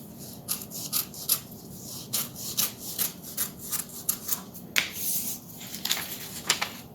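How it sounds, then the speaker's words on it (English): A small sharp clean knife slides along the fold lines of folded paper for a window star, giving a series of close, short scraping strokes in an uneven rhythm, with no talk. "slide a small, sharp, clean knife along those fold lines"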